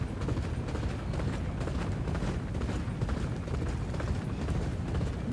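At the start of a race in a horse racing video game, a dense, steady rumble of many galloping hooves drums on continuously at fairly high volume without pause.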